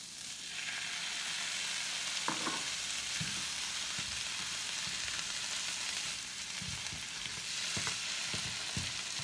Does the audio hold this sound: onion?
yes